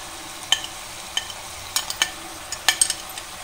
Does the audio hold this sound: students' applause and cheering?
no